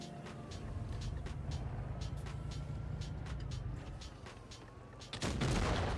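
IS-7 heavy tank firing in a tank video game: a steady engine rumble carries faint repeated shot cracks, and a loud close blast hits near the end.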